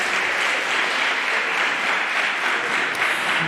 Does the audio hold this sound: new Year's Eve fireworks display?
no